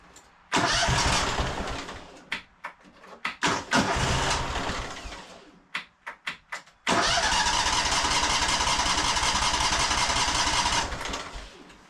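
Cub Cadet 2186 lawn tractor engine cranking and catching, sputtering through several short bursts, then running loud and steady for several seconds before dying away.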